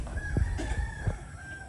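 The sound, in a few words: rooster crowing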